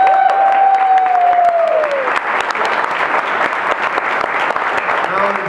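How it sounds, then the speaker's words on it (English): A conference audience in Aruba breaks into full, steady clapping that swells and holds, a sung or spoken tone trailing off at the start before the crowd noise dominates. "Everybody give Beth a round of applause."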